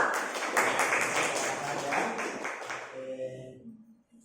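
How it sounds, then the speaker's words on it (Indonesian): A classroom audience applauds, a dense burst of clapping from many hands that fades out after about three seconds, followed by faint voices and a brief tone. "Kita tepuk tangan dulu untuk kelas ini."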